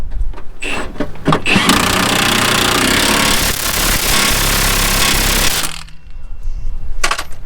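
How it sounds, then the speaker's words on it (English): Power tool tightening bolts on the front end of a GMT 400 truck, a loud sustained buzzing rattle running for several seconds after brief bursts, then stopping before a few short clatters near the end. "And you can take and tighten them bolts up."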